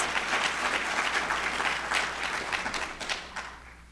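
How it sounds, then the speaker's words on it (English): A crowd applauds the opening of the new University of Maryland Capital Region Medical Center during a county address, a full wash of clapping that holds steady and then thins out at the end. "let's give that a round of applause"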